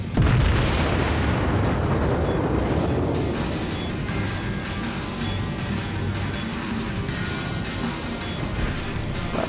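Warship guns fire a heavy broadside in a naval video game, a loud deep boom at the start that rolls into a long rumbling decay under continuous engine and water noise.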